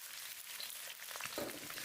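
Fish pieces fry in oil in a pan, a faint, soft sizzle with light crackles and a brief clatter near the end, heard alone.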